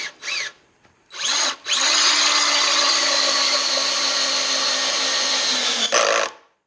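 A drill driver drives a screw at a steep angle while building sawhorses. After two short starts it runs in a loud, steady whine for about four seconds, close by, with no talking.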